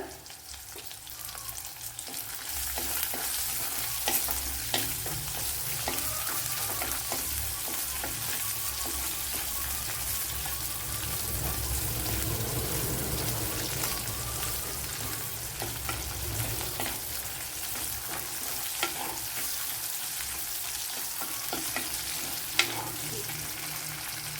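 Garlic, ginger and green chilies fry in hot oil in a pan for an okra dish, giving a steady, dense sizzle with scattered crackles and pops throughout, fairly close and with no talking over it.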